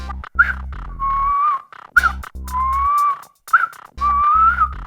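A person whistles a signal: three loud, close, sliding calls that rise and fall, separated by short pauses over low, steady background tones.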